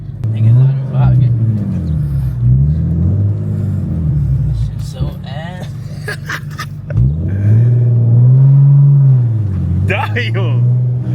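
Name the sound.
Infiniti G35 manual drift car engine revving while driving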